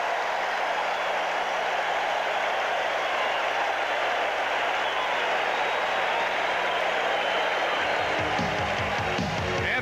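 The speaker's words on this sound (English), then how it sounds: "Listen to the crowd" A baseball stadium crowd at a 1987 Mets game roars in a broad, sustained wash of cheering that holds steady throughout, with a voice briefly rising near the end.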